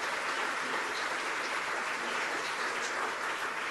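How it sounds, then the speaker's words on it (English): A crowd of retail workers at an industry gathering claps steadily in dense, continuous applause that holds at an even level for several seconds without a break. "Why don't you give yourselves a round of applause for the difference that you make in the lives of every American community."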